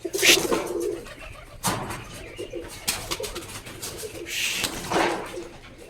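Rajshahi Giribaj pigeons coo in low, throaty bursts from close by, with a few soft calls spread across the stretch and rustling in between.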